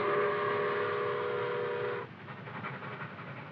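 A loud steam whistle on Nickel Plate Road steam locomotive no. 759 blows steadily for about two seconds, then cuts off. The rumbling, chuffing locomotive continues underneath.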